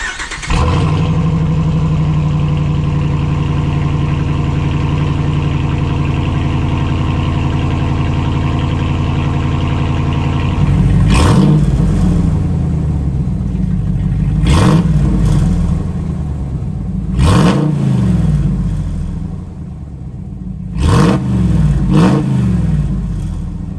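A 2014+ Ram 2500 with a Magnaflow direct-fit exhaust idles loudly and steadily up close, then gets four sharp revs in a row, each a rising roar that falls back to the deep idle.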